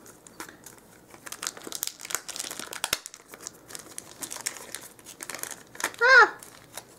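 Doll packaging stuck with tape is pulled open with steady crinkling, rustling and tearing of plastic and paper close by, ending in a short vocal exclamation.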